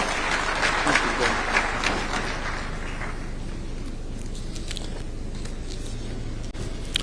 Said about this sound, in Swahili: Tupigie chairman wetu makofi tafadhali